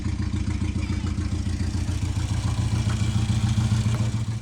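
An engine idling high at about 3,000 RPM because a hose is caught on the throttle linkage, a loud, close, steady rhythmic chugging drone with a faint clatter and no talk.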